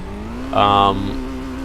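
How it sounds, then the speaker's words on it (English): Car engine starting up in Forza 5, a short bright crank-and-catch burst that settles into a steady idle hum, with a tonal background drone underneath. "start the car up, and I don't know, just have a listen to it"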